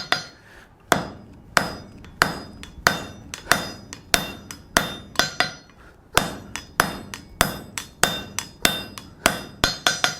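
A hammer forging a steel cold chisel, a string of about twenty sharp ringing metal blows in a steady rhythm, each fading quickly, with a brief pause near the middle and no speech.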